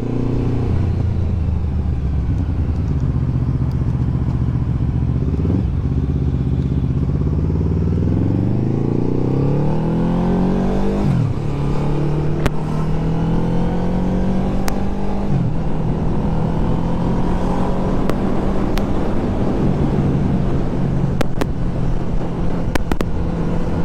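A 2025 QJ Motor SRV 600 V motorcycle with its stock exhaust being ridden, a loud continuous engine drone that rises and falls through gear changes and throttle sweeps, with steady wind rush and no talking.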